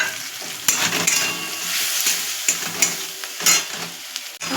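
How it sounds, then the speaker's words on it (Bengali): Ginger and cumin paste with turmeric and salt frying over medium heat for a katla fish curry, a close sizzle broken by sharp scrapes and clacks of a spatula stirring, with no talking. "দিয়ে দেবো অল্প পরিমাণে একটু হলুদ আর একটু নুন দিয়ে এটাকে আমি কষিয়ে নেব"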